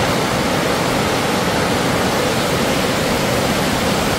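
Water of a stream running through Rio Frio Cave, a remote cave in the Mountain Pine Ridge area, heard as a steady, loud, broadband rushing roar with no pauses and no voices.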